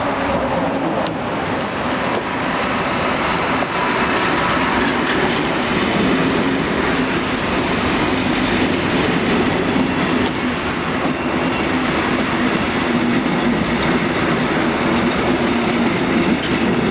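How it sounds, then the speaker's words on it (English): Locomotive 478203 hauling an empty stock train arrives at Gyor station in Hungary, giving a loud, continuous rumble of rolling wagons with rhythmic wheel clatter and faint squeals that persists throughout, with no talk. "We begin at Gyor as 478203 arrives with empty stock."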